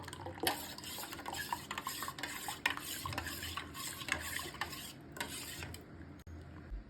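A spoon stirs a milk pudding mixture, flavoured with vanilla essence, in a metal pot, giving a steady close scraping and clinking against the sides that continues with no talk.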